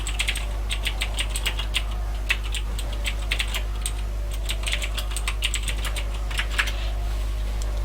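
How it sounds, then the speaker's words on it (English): Close computer keyboard typing, quick irregular keystrokes in short bursts over a low steady hum, continuing throughout with no speech. "look at how slow I'm typing"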